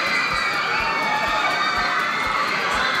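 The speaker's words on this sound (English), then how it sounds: "Whoa. That is a big crowd of people." A big crowd of people cheers and shouts at an airport in Singapore, a dense, steady roar of many voices with no pauses across the whole stretch, close and loud.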